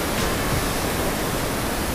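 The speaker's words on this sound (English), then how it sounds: "Beautiful waterfalls." Waterfalls beside a mountain-bike flow trail at Creekside in Whistler, a steady, dense roar of rushing water filling the whole sound, loud and unbroken with no voices.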